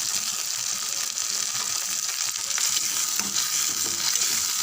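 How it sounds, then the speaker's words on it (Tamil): Chopped shallots, onion and tomatoes sauté in hot oil in a pan, giving a steady, bright, close sizzle that stays even throughout with light stirring and no voices. "பாருங்கள், தக்காளி நல்லா வதங்கியிருக்கு"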